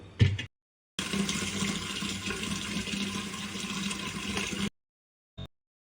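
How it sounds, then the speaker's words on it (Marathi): Tap water pouring steadily into a freshly hand-washed clay matka, a continuous rushing fill lasting several seconds at close range, with brief splashes before and a short knock after. "आता त्यात आपण पाणी भरून घेऊ"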